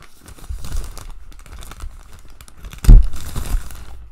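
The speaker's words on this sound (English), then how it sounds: "I apologize ahead of time for the crinkling." Plastic mail packaging holding yarn being handled, with close, uneven crinkling and rustling bursts and one louder crunch partway through.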